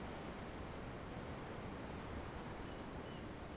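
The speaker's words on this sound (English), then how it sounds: "The ocean? Yeah. The waves." Steady roar of ocean waves by a dock in Tales of Arise, dense and unbroken surf noise with a windy edge, fairly close and even throughout, without any voices.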